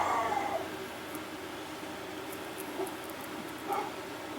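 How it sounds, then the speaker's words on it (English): Dogs bark in the background of a quiet indoor room, a few short, muffled barks and whimpers spaced apart, fairly distant over faint hiss. "apologize for the barking dogs"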